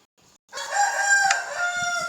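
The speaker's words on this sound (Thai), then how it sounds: "อ้ยไอ้ไก่บ้าอย่าขันสิ" A rooster crows loudly and close by in a video game's survival mode, one long drawn-out call with rich harmonics, preceded by a brief faint sound.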